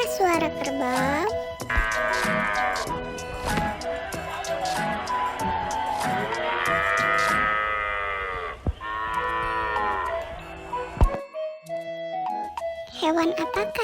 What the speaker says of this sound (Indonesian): Gimanakah suara kerbau?